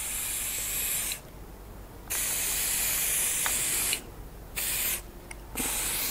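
Contact cleaner sprayed onto a Toyota FJ Cruiser air filter in three close, loud hissing bursts, each lasting about a second or more and separated by short pauses.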